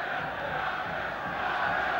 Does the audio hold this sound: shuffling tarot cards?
no